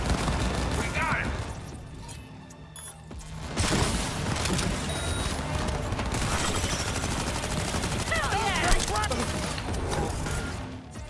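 Shotgun gunfire in the video game Cyberpunk 2077, loud blasts amid a chaotic, dense battle mix with continuous shooting and impacts throughout.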